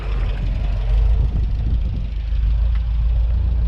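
An MGB classic sports car with a B-series engine rumbles at low speed through its exhaust at an outdoor classic car meet, a steady, deep burble that stays close and moderately loud without any talk.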